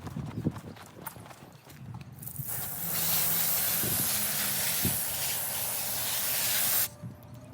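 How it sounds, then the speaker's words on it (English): A wet shirt being wrung out by hand on a humid construction site, giving a steady hissing, spraying rush of dripping water for about four seconds, loud and close, with scattered handling noises before it. "So you wring it out as much as possible."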